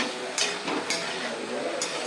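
Vegetables sizzle steadily in a hot pan, with a few clinks of a spoon stirring and scraping against the metal nearby.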